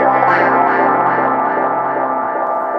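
Hohner Clavinet D6 played with reverb and echo effects, a loud, bright, distorted keyboard chord sustaining and slowly decaying with a smeared, echoing tail.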